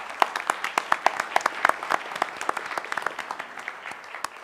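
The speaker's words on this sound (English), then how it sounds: "If we could give them a round of applause." A small group claps at a county commission meeting, distinct sharp individual claps forming a loose, irregular rhythm in a fairly quiet room, starting strong and thinning slightly toward the end.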